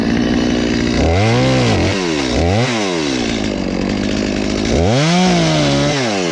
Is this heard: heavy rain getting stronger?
no